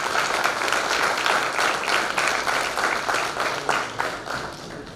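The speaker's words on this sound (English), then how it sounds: "they will give a big round of applause in favor of Thane branch for conducting this seminar" Audience applause at a tax seminar hosted by a regional branch, a dense, steady wash of many hands clapping close by throughout, fading slightly toward the end.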